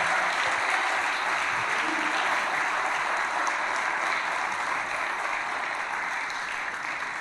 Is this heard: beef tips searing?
no